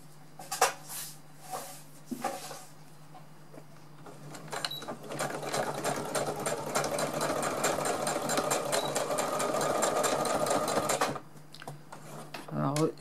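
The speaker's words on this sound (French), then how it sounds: "Une simple couture droite, hein. Vous la faites serrée" A sewing machine runs a tight straight stitch along sport elastic, starting with a few short bursts and then settling into a long, steady, rapid whirring run before stopping, close by and fairly loud.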